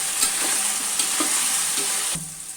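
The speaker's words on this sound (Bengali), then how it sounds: "এখন আমি কুমড়োগুলো ভালো করে ভেজে নিব।" Chal kumro (ash gourd) pieces sizzle loudly in hot oil in a pan for a fish curry, a dense steady frying hiss with light stirring clinks, close up with no talk.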